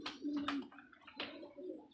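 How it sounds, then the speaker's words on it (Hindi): Kasur pigeons give soft, close coos in two short phrases a moment apart, with faint chirpy overtones and no voices. "8 ਕਬੂਤਰ ਆਏ ਨੇ ਤੇ ਤੇਰੇ ਸਾਹਮਣੇ ਹੀ ਨੇ"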